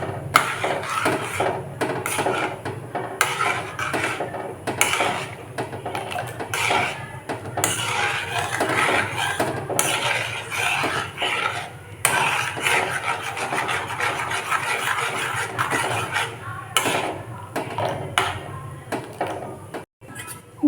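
A spoon scrapes and knocks around a pot of homemade liquid dish wash mixture heating on a gas stove over a medium flame, in an irregular, repeated, close-up rhythm over low burner noise.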